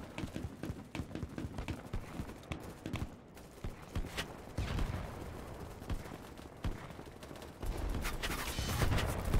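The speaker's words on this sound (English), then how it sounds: "Just shooting off random rockets in the distance." Rockets fire off far away in the game Battle Bits Remastered, a string of muffled, irregular thumps and bursts that swell in the later seconds over a rumbling battlefield backdrop.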